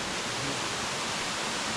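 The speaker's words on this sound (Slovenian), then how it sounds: "Zdaj smo pa čist pod slapovi Krušuna." Krušuna waterfalls in Bulgaria, running low during a drought, pour with a steady broadband hiss close by, an even roar with no other sounds.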